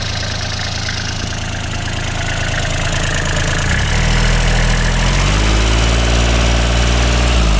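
The diesel engine of a 2009 Kubota L3408 tractor runs close by, a loud rhythmic knocking chug that settles into a deeper, steadier idle partway through, with no talking.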